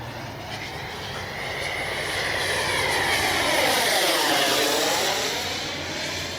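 An Arrows RC F-15 twin 64mm electric ducted-fan jet model passes in flight, a loud rushing whine that swells, sweeps down in pitch as it flies by, then eases off, with no voices.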